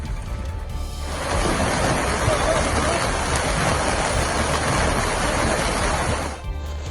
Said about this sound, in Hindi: रामबन में पिछले 3 दिन से तेज बारिश हो रही है।